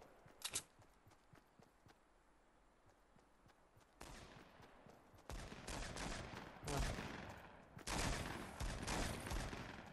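Grenade launcher fire in the Fortnite video game: a sharp shot near the start, then a run of loud, heavy blasts and bursts of gunfire that build and roll through the second half of the clip.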